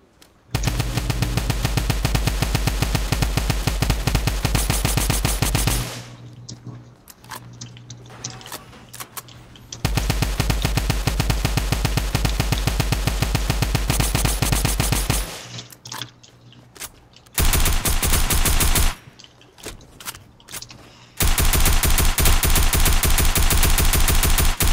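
Rapid automatic gunfire from a Fortnite match, loud and close, in long sustained bursts separated by short quieter pauses with clicks and shuffling, then a final extended burst.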